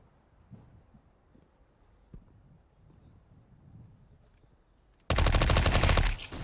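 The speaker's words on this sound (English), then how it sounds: "hammered away by the newest edition of weaponry to Counter-Strike Global Offensive. MP5." Loud, dense burst of MP5 submachine gun fire in Counter-Strike Global Offensive, a rapid volley lasting about a second near the end after quieter ambient game sounds.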